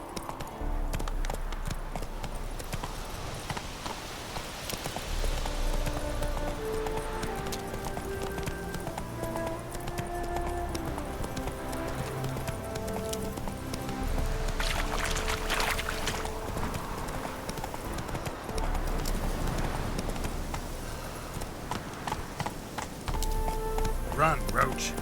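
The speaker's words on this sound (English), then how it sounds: "Run, Roach" A horse gallops in The Witcher 3 video game, its rhythmic hoofbeats clip-clopping steadily under continuous music and occasional voices.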